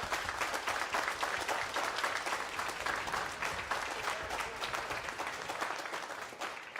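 Sustained applause from a crowd at a political meeting with residents, dense and steady clapping from many hands heard at a moderate distance for the whole stretch.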